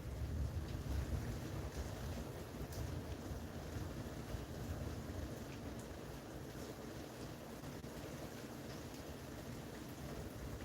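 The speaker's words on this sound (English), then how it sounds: "Well, that wind really picked up." Strong wind blowing outdoors, a continuous rushing roar buffeting the microphone with a heavy low rumble, steady throughout with no talk.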